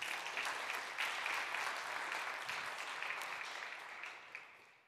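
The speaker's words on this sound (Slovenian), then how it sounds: "še en velik aplavz za podjetje IQ Wood" A hall audience at a Slovenian woodworking industry event applauds the company IQ Wood, a full wash of clapping that starts strong and gradually tapers off, heard at some distance and fairly quiet.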